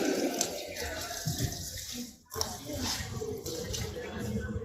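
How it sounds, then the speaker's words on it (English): Tap water runs steadily as hands are rinsed under a faucet, a continuous close splashing flow with a brief dip midway, while a voice talks over it. "Rinse hands."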